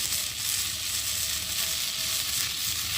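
Green chillies, turmeric and salt sizzle in a hot frying pan, a loud, continuous close-up crackle and hiss with faint stirring underneath and no talking.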